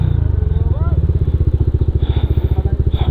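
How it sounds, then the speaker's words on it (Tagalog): Motorcycle engine idling nearby at a resort parking area in Bamban, Tarlac, a steady rapid chugging pulse throughout with someone talking over it. "Motorcycle."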